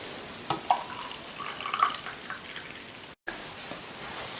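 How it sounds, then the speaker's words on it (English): Hot water is poured from a kettle into a DIY glitter jar, a soft continuous splashing trickle with a few small clinks, close by and fairly quiet, cut by a brief dropout near the end. "now I will just put in here some hot water that was left here"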